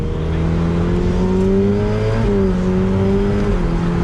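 A loud Ferrari 488 Pista Spider engine revs continuously, its pitch climbing and dropping sharply at quick gear shifts, close and alone.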